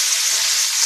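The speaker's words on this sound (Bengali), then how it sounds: "দিয়ে একটু পেঁয়াজটা ভালো করে ভেজে নেবো।" Sliced onion and green chilli frying in hot oil: a brief, steady, close sizzling hiss lasting under a second, with no voices.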